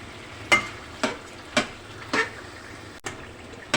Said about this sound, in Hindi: अब टमाटर को हमने इस तरीके से मिक्स कर लेना है